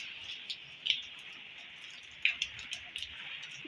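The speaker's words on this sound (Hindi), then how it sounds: "देखिए बारिश हो रही है।" Rain falls steadily outdoors during a stormy spell, a soft continuous hiss with a few sharper drips and patters standing out, fairly faint and without voices.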